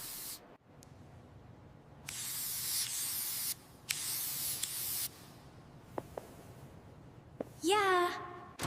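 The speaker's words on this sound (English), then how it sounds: "Just a little spritz." Short bursts of aerosol spray hissing in a bathroom, several separate spritzes with quiet gaps, followed by a few soft knocks and a brief rising squeak near the end.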